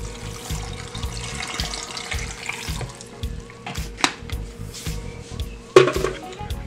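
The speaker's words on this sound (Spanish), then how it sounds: "y ahora vamos a agregarle un poquito de agua para licuarlo" Water is poured from a tap into a blender jar holding tomato, onion, habanero chiles and garlic for salsa. A splashing, trickling stream is broken by clinks and knocks of kitchenware, with no talking.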